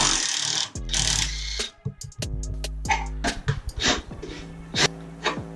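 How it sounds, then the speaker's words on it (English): A 15mm sway bar bolt is removed on a Ford Mustang GT with a power tool that gives close, buzzing bursts of whirring and rattling, broken by short pauses and sharp metallic clicks. "I'm just going to take the sway bar off, which is this one bolt."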